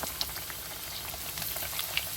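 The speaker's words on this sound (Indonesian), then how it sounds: "Lanjut, kita akan menggoreng isian daging ini setelah setengah jam di lemari pendingin." Bread rolls filled with meat fry in hot oil, giving a dense, steady sizzle with scattered pops and crackles, heard up close and with no one talking.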